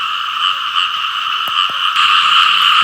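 Frogs, a male and a female, croak in a steady, loud, continuous trilling chorus, with a couple of brief clicks partway through and no talking.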